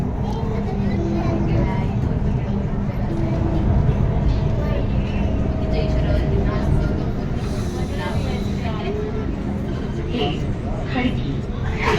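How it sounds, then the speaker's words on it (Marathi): A Pune metro train carries riders between stations, a steady rumble of the car in motion heard from inside, with people talking over it. "आता आपण आहोत मेट्रोमध्ये."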